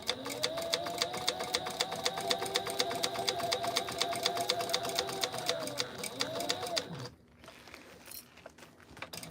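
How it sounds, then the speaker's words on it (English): Sewing machine stitching a bag strap, a steady fast whirring hum with rapid needle clatter running for about seven seconds before stopping, followed by quieter handling noise. "We're just gonna sew it."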